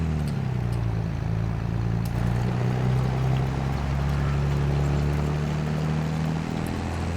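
A tractor engine in a farming video game runs in a steady, loud low drone, holding an even pitch throughout with no talking.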